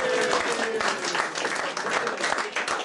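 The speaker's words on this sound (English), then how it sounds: "A big round of applause for them." An audience at a reception honouring Zac Goldsmith MP and Lord Tariq claps in sustained, dense applause, fairly close and steady throughout.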